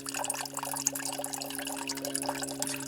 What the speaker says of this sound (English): Gotta squeeze out 3 litres here.